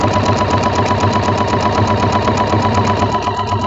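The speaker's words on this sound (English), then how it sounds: "just start sewing" A sewing machine stitches a Christmas quilt in a steady, loud, rapid mechanical whir with an even rhythmic pulse, running continuously up close.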